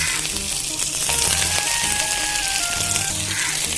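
Pearl spot fish (karimeen) frying in a pan just after being turned over, a loud, close, continuous sizzle and crackle with no pauses and no talk.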